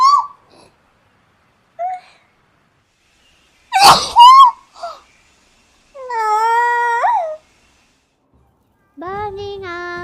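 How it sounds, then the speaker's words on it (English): A female streamer sneezes, one sharp loud burst standing out among short playful vocal sounds and speech-like calls around it. "So I think I will sneeze a lot today."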